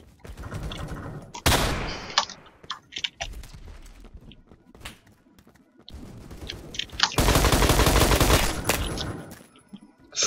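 AK-47 gunfire in the video game Phantom Forces, with bursts of rapid automatic shots, a sharp volley early on and a long sustained burst near the end, between quieter clicks.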